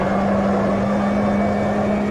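Steady high-revving engine drone of a Ginetta G40 race car in the Automobilista 2 video game, held at a constant pitch near the end of a gear, loud and continuous with no talk.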